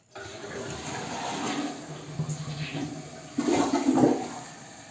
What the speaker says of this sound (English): I'm gonna give it a test flush